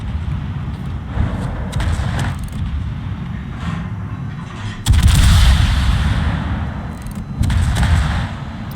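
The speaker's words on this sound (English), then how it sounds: "what the airstrike can do if you literally get the perfect drop" Airstrike bombs exploding in a naval warship video game, a run of deep, booming blasts and rumbling bursts that swell in waves, loud over continuous low battle noise.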